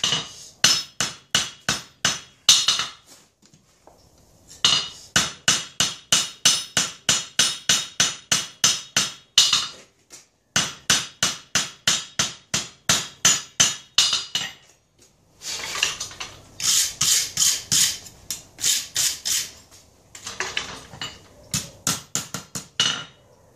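Hammer forging a chainsaw chain into a blade, with fast runs of ringing metallic blows separated by brief pauses, close and sharp with no talk.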